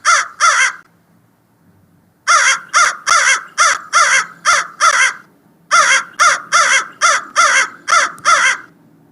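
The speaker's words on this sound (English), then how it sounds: "This voice is crow, caw, caw, caw, says the crow." A crow caws loudly and close, in two quick calls, then a pause, then two long runs of harsh caws in steady rhythm.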